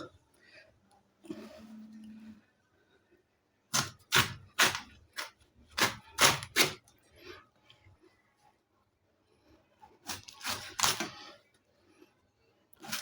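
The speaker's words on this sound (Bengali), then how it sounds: "একটু মোটা মোটা করেই কাটছি, একদম পাতলা কাটবো না।" Jackfruit is chopped into thick pieces on a traditional upright blade, giving a run of sharp, close cutting knocks in bursts with pauses between, and faint handling noise earlier.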